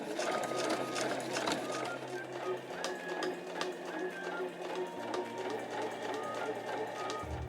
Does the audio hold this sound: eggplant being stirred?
no